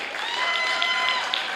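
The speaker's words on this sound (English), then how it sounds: "Please put your hands together." Audience applause at a community budget presentation event, a brief, even patter of clapping from a gathered crowd, steady and moderately loud with no pauses.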